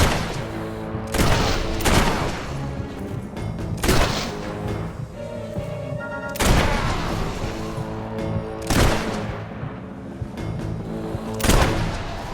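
Heavy gunfire from the Fable III video game, with several loud booming blasts repeating every couple of seconds over a sustained musical and ambient bed, close and forceful with no talk.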